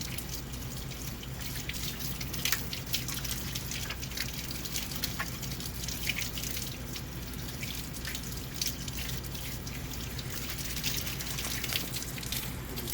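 Tap water runs steadily into a lab sink during handwashing, a continuous splashing rush with small irregular drips and spatters, close and fairly loud, with no talking.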